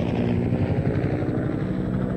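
A helicopter flies over open water along a windy windsurfing coast, its steady rotor thump and engine roar loud and close throughout with no talk.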